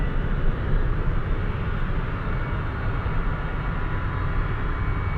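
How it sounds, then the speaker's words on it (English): McDonnell Douglas MD-80 jet engines starting up at an airport, a steady, loud, broadband roar and rumble with no talk over it. "the sound that you're hearing right now is the Mad Dog starting up"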